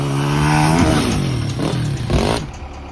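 A motocross bike engine revs and whines up and down, loud and close, with rough clattering surges and no voices.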